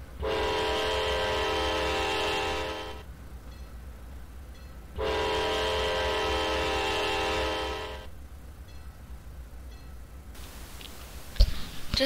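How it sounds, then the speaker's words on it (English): A train horn sounds two long, loud blasts over the steady rumble of a passing freight train in the Trainz railroad simulator, followed by clattering wheels. "Just after the CSX Autorack train cleared"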